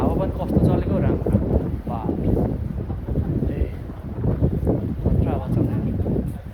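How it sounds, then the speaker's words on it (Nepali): Wind buffets a microphone outdoors on a sunny day near a station, a constant low rumbling roar that runs throughout, loud and close, with a person talking over it. "हावा पनि कस्तो चलेको राम्रो।"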